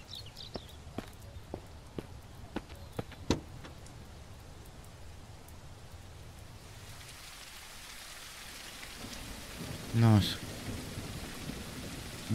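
Rain patters steadily in the survival game Mist Survival, with scattered drop impacts and a low rumble of thunder beneath; someone speaks briefly over the wet ambience.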